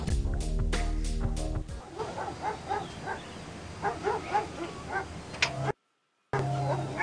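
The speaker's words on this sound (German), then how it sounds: "Ich kümmere mich nur um wirklich aggressive Hunde, Kampfhunde." Aggressive fighting dogs barking in the TKKG detective video game, a series of short yips and barks at a moderate distance that follows a musical sting and continues in a quick, uneven rhythm.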